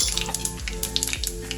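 Cumin seeds sizzle in hot ghee and oil, added after mustard seeds for a dhaba-style Kathiyawadi sev tameta curry. Short crackling bursts ride over a steady tonal hum in a brief, close clip.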